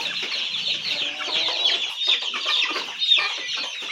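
A flock of Aseel chicken chicks chirps and clucks continuously, a busy overlapping chorus of shrill peeps that stays close and loud with no voices.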